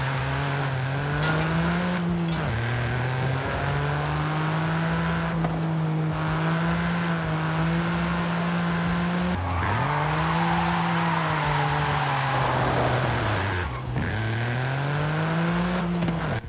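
A 1993 Autozam AZ-1 kei sports car races in Forza Horizon 5, its high engine note rising through the gears with brief drops at each shift and tire squeals during corners, loud and continuous.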